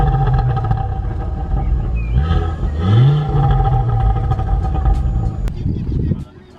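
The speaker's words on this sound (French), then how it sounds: "Juste démarre et elle monte toute seule en régime." A Ford Focus ST Mk2 with its five-cylinder engine runs steadily nearby, its revs climbing and sagging on their own before settling, loud and continuous until the sound drops off near the end.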